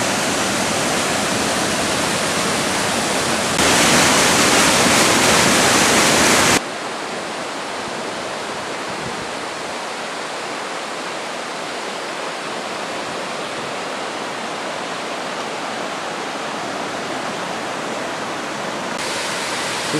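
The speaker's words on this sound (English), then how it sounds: "Water cascading down." A waterfall pours steadily down a cascading falls in the Balkans as a loud, unbroken broadband rush, surging briefly louder partway through, with no voices.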